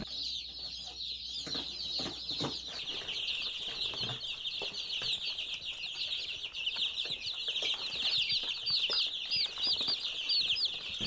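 A flock of Cornish cross chickens peeps and clucks in a constant busy chorus, with bursts of wing flapping and scuffling mixed in, fairly close.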